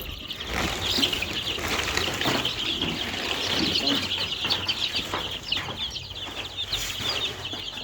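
Young chicks feeding and drinking water give a steady, dense chorus of high-pitched peeping that runs through the whole stretch, with soft scratching and pecking noises beneath it.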